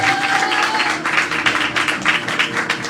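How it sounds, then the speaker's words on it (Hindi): Members of a church congregation clap together in uneven, rhythmic bursts over a background of sustained musical tones, moderately loud and close. "ताली बजा सकते।"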